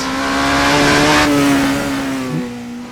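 A Vanwall hypercar in Assetto Corsa revs loudly up close, its engine note climbing and holding steady before easing off with a brief gear-change blip near the end.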